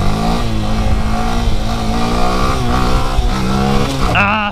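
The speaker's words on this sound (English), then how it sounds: "rev the bike up, and then just let go of the clutch" A motorcycle engine revs up hard for a wheelie in an open lot, loud and close, with rising and falling engine pitch held for several seconds before dropping off.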